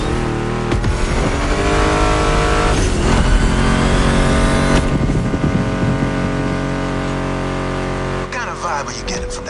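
A Ford Mustang GT muscle car engine in the video game The Crew Motorfest roars and revs continuously alongside guitar-driven music, the tone shifting as it accelerates, with talk mixed in.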